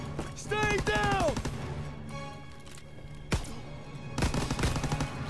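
Gunfire in the World War II video game Call of Duty WW2, bursts of shots mixed with harmonic whines and game sound effects, moderately loud under a dense battle backdrop, with a sharp impact around the middle.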